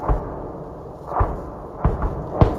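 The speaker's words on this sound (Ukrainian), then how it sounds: "Чуєте вибухи тут?" Explosions at the front line of the war in Ukraine: three or four dull, distant thuds spaced about a second apart, each a short low boom rising out of a steady rumbling background, with no talk.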